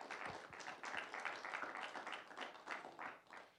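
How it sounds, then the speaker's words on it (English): Applause from the audience at a college idea pitch competition, a steady patter of many hands clapping at moderate loudness and slightly distant, with faint murmuring beneath. "If you could just give yourselves a round of applause."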